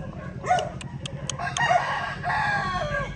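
A rooster crows loudly nearby, its call stretched across a few seconds, with hens clucking around it and a low steady background hum; the rooster is a not very large asil-type gamefowl.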